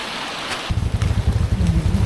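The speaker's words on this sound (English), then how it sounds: "Okay, so it's still raining here, but we've decided that we're going to head off anyway." Rain falls outdoors in Northern Vietnam, a steady hiss of drops, with a heavy low wind rumble buffeting the microphone that kicks in after the first moment and lasts to the end.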